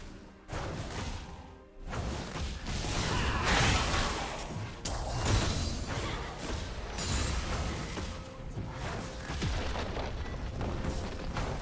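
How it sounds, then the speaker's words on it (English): A turret is destroyed in League of Legends with a long, dense rumble of crashing, booming destruction and whooshing debris that swells and lingers for over ten seconds, heard at a fairly low level. "Blue team's turret has been destroyed."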